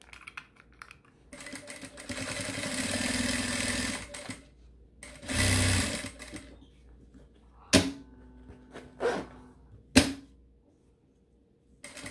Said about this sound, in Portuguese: vou passar uma costurinha aqui para fixar os dois tecidinhos junto